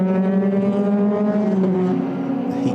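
Euroformula Open single-seater race car at Paul Ricard in qualifying, its engine droning loud and steady through the final sector on a hot day, pitch wavering slightly as it lifts and reapplies throttle.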